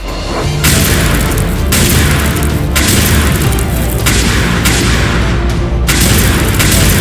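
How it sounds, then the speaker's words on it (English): A bazooka in the Line Rider video game fires and explodes in a loud, continuous barrage of booming blasts and whooshing bursts, several sharp impacts punctuating roughly seven seconds of dense noise. "maybe he'll hold up better against our final weapon, the bazooka"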